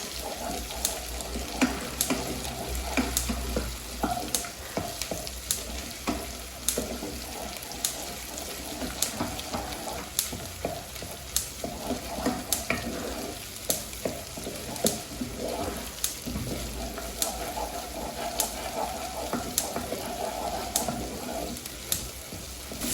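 Tomato paste frying in a pan while being stirred, a steady close sizzle with frequent sharp scrapes and taps of a spoon, plus a watery running undertone.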